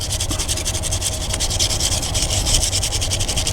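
Semi truck battery terminals are scraped clean with a fast, rhythmic back-and-forth rasping, loud and close, continuous and without talking.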